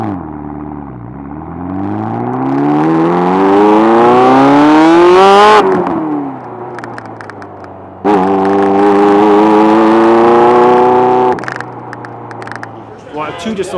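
A Ferrari F40 twin-turbo engine revs hard, its loud rising whine climbing steeply before cutting off, then a second sustained high rev holds and drops away, heard close and alone.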